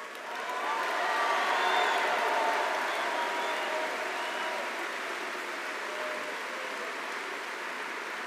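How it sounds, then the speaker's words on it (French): A large crowd at an outdoor political rally in Narbonne applauds in a dense, sustained wash of clapping that swells during the first two seconds and then holds steady, without speech. "Et vous pouvez l'applaudir,"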